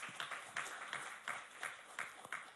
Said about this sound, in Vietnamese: xin cho một tràng vỗ tay ạ